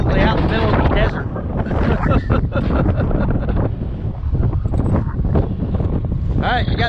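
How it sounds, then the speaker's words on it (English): Strong, hot gusting desert wind buffets the microphone in a loud, continuous roar, with a voice talking intermittently underneath. "I told you, hot and windy."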